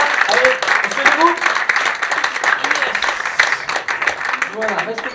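An audience applauds loudly at a gathering, a dense, steady wash of many hands clapping close by for several seconds, with voices audible underneath.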